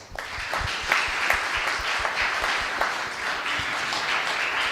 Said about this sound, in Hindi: प्रभु को धन्यवाद देते हुए ताली बजाएं।